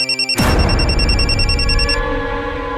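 An electronic telephone ring pulses a few times, then a loud sudden burst of noise cuts in and lingers as a dense rumbling wash with steady tones.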